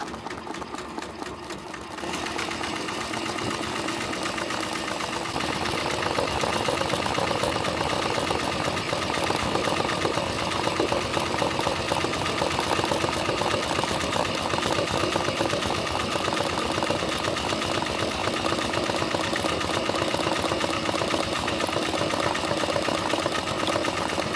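A Tajima TMBP2 embroidery machine stitches a 3D puff design on a hat, starting with a slow, softer run for a couple of seconds, then settling into a loud, steady, rapid mechanical chatter that continues without pause.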